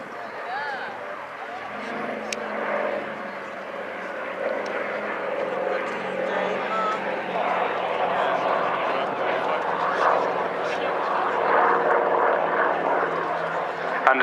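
C-47 propeller engines drone steadily at the Bournemouth Air Festival, a distant, sustained rumble under a commentator talking over the public address.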